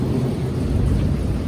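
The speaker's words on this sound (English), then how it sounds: "you're gonna hear some thunder in the background." Low rumbling thunder from a thunderstorm outside, heard as a steady deep roll filling the background throughout, with no voices.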